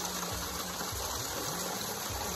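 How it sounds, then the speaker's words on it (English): Water from Moses' spring in Jordan pours steadily in a continuous rushing flow with a low, surging pulse repeating about every half second, soft and fairly distant, with no one talking. "Right here behind me is Moses' spring."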